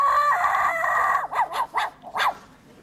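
A man vocally imitates a small, yappy lapdog up close: a whiny sustained note, then about five short, sharp yaps in quick succession.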